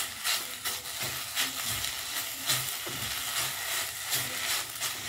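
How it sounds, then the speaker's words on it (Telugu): Curry leaves dry roasting in a pan over a low stove flame give off a steady, close crackling sizzle with irregular soft pops and stirring scrapes, no voices present. "ఇది కూడా కాస్త డ్రై రోస్ట్ అవ్వనిద్దాము"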